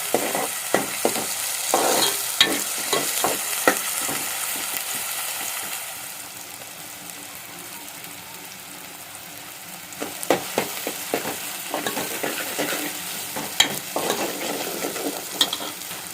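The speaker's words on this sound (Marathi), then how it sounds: "नरम होईपर्यंत परतून घ्यायचं" Ingredients for Puneri misal sauté in a pan at home, with a steady sizzle and repeated scraping stirs in bursts, quieter in the middle stretch before the stirring picks up again.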